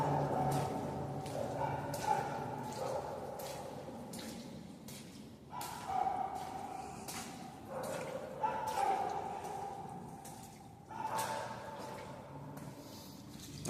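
Dogs bark repeatedly in the distance, heard from inside an underground culvert, the faint, echoing barks coming in irregular bursts over dripping and low rumbling.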